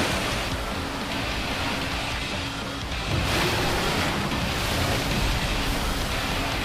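Waves crash in the Final Fantasy XIV raid fight E3N. A dense, loud wash of surf noise continues throughout and swells slightly partway through.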